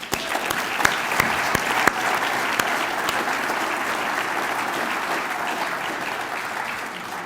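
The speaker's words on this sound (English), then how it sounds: "let's just a round of applause for this community." An audience at a watershed community address claps loudly and continuously for the community. A few sharp, close hand claps stand out early before the sound settles into an even, sustained roar with no speech.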